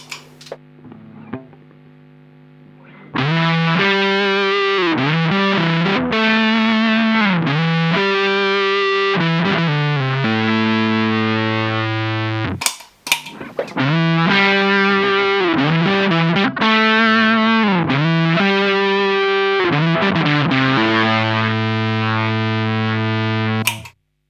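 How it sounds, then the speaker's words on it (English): Electric guitar through a Dunlop Fuzz Face pedal with the controls at full, played on the neck pickup, producing thick, sustained distorted chords and bends in two long loud passages broken by a brief pause. "let's go with the controls up full again and get that creamy neck pickup sound."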